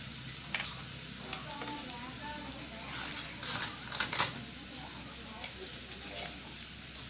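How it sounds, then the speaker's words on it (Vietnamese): Boiled mushrooms stir-fried in a pan give a soft, steady sizzle, with a few light clinks and scrapes of a utensil against the pan in the middle. "mình cho nấm xào trước ha"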